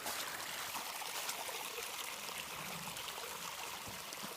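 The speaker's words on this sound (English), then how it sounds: "that's the water to the left coming off the Rhode Island Hill as well" Steady rushing water from a stream running off Rhode Island Hill along a trail flows continuously, a broad even hiss with no voices.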